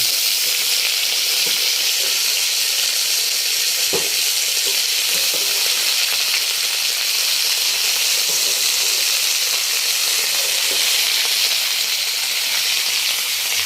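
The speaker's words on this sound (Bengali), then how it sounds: "ভালো করে এটা ভেজে নিয়ে ফিরে আসছি" Cumin and spices frying in hot oil for a cauliflower, potato and bori katla fish curry: a loud, constant crackling sizzle with a few faint stirring knocks, close up and unbroken throughout.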